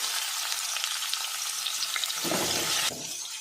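Asafoetida, ginger and vegetables frying in hot oil, a continuous close sizzle with stirring, then a louder burst of crackling as more goes in before it suddenly drops away.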